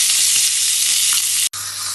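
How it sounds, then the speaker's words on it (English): Beef fat cap of Cote du Boeuf and sirloin steaks pressed onto a hot grill, giving a loud, steady, hissing sizzle that cuts out for an instant and then carries on, with no voices. "I'm going to press them on together. I'm going to get that fat to get a nice sear."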